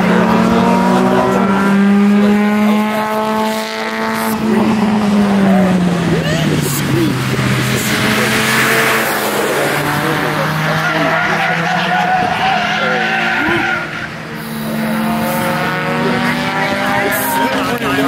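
Race cars at a track event on the Mosport front straight, loud engines screaming past with rising and falling pitch, tire noise and overlapping passes nearby, voices faintly underneath.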